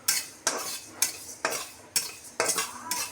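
Fenugreek seeds roasting in a pan, stirred with a spoon in about six regular scraping strokes, each one a crisp rattle of seeds and metal, close by with no talk.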